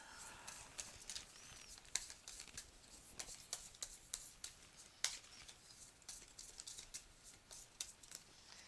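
Cards from a Marvel Villainous deck being shuffled, a steady run of soft papery riffles and taps close by with no talking.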